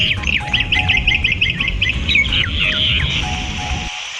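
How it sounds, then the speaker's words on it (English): A myna bird calls loudly and close in a rapid run of harsh, chattering squawks and whistled notes, repeated for several seconds before ending abruptly. "Myna."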